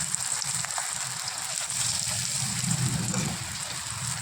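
Eggplant slices fry in a little oil in a pan, giving a steady close crackling sizzle that runs the whole time with no talk, while rain falls outside.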